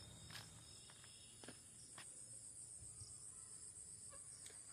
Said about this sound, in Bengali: একটু চুপ করি, তোমরা ঝিঝি পোকার ডাকটা শোনো।